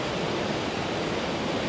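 Kuang Si waterfall in Luang Prabang, Laos, pours steadily in a dense, unbroken wash of rushing water, loud and close, with no voices over it.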